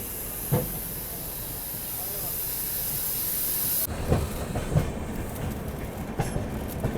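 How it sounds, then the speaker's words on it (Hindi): Saptakranti Express from Muzaffarpur to Anand Vihar pulling into Ghaziabad: a steady hiss of rolling stock gives way to irregular wheel clacks and knocks over rails, fairly close. "ये सप्त क्रांति एक्सप्रेस है जो कि अभी आ रही है मुजफ्फरपुर से आनंद विहार के लिए"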